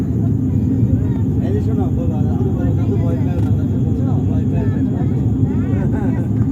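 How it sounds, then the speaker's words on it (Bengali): A loud, steady airplane cabin roar with a deep rumbling drone that holds constant throughout, heard from inside the aircraft as it descends over the sea near Cox's Bazar. "আমরা কিন্তু নিচে নামছি বিমানটা"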